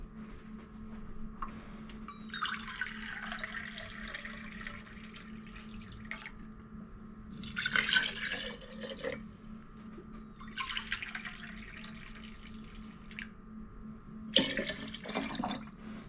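Filtered water pours into a jar for pickling in a home kitchen, several separate gushing bursts of running water with quieter pauses between them, close by against a faint background hum.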